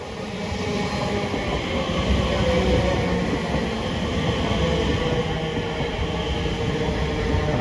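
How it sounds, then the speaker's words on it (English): A London 1992 stock electric train rolls in with a steady, loud rumble of wheels on track, continuous and close, with no voices. "I think I can see another 92 stock train coming in to terminate"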